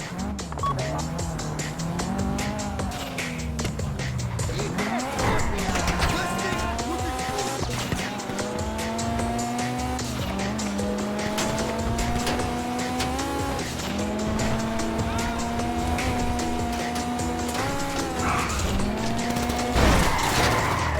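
A getaway car in the GTA Online video game driving hard, engine revving up and down through gear changes with repeated tire squeals and skids, loud and continuous, with a voice talking over it.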